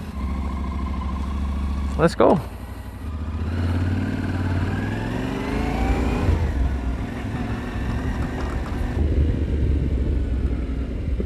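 An adventure motorcycle rides off, its engine revving and rising in pitch through gear changes and settling into a steady drone, with a sharp knock near the start and someone speaking briefly.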